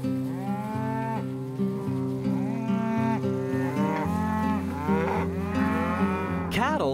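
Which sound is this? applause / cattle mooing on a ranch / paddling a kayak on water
cattle mooing on a ranch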